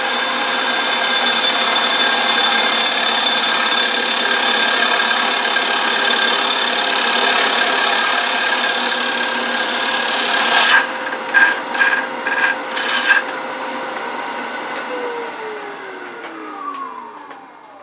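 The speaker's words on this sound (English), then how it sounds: "I've got just some minor shaping that I'm going to do here that I'll do quickly with this small bowl gouge." A small bowl gouge shapes a cherry wood bowl: a steady, close scraping hum runs throughout, then a few short choppy cutting bursts before it winds down. No one speaks.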